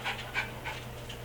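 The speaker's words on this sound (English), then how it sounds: "Here comes my dog." A dog pants in quick rhythmic breaths, close but soft, over a low steady hum, with no talk.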